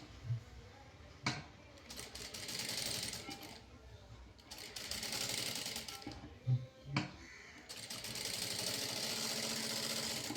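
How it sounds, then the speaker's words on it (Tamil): A sewing machine runs in short bursts while stitching a blouse, a rapid mechanical whir that starts and stops several times, moderately close, with brief pauses and some handling noise between runs. "நான் ஒரு 2 பாயிண்ட்டுக்கு தைக்கிறேன் இந்த மாதிரி."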